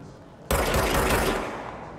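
Player firing a gun in the game Control, a sudden loud burst of rapid shots that rings out and decays over about a second and a half, alone without talk.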